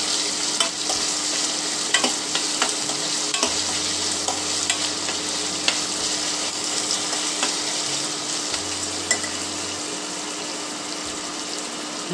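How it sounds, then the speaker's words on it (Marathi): Chopped onion sautés in hot oil in a pan, giving an even, close sizzle and crackle throughout, with occasional stirring ticks and a low background hum. "तापलेल्या तेलात मी चिरलेला कांदा टाकते। कांदा छान परतवून घेऊ आपण आता।"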